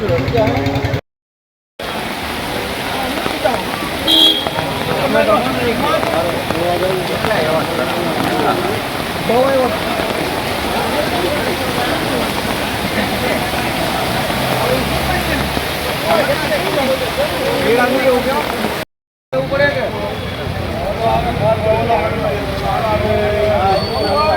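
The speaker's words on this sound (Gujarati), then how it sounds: "અત્યારે વરસાદ સારો પડી ગયો છે" Heavy record-breaking rain pours on a village road, water streaming across it in a loud, continuous rushing roar with no letup, briefly dropping out twice.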